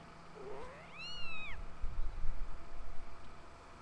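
A Lemur Kitty creature in The Legend of Zelda: Skyward Sword HD gives a single clear rising meow, close and distinct over quiet game ambience.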